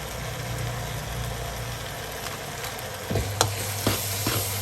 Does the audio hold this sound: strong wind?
no